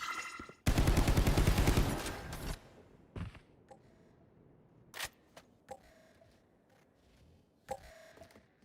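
Gunfire from the tactical shooter Valorant in a 3v3 wingman tournament match: a long loud burst of automatic fire, then several sharp single shots and softer pops spaced out, with no talk over them.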